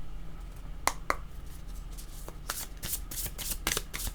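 A deck of tarot cards is shuffled up close: soft flicks and riffling bursts come in an uneven series, growing busier toward the end, with no talking.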